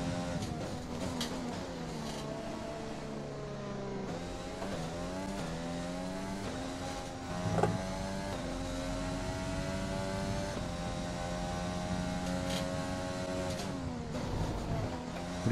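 An F1 race car engine in the F1 2020 video game screams continuously at high revs, its pitch climbing and dropping through gear changes, with a brief thump midway and steady loud engine tone throughout.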